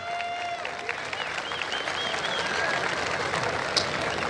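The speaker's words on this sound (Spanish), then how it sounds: "Venga, fuerte el aplauso" Loud, steady applause from a large crowd at a rodeo event, with scattered cheers and whistles mixed in, continuing throughout.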